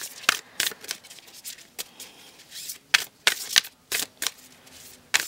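A self-care card deck being shuffled, with quick riffling bursts and soft card slaps repeating in an irregular rhythm, close and crisp with no talking.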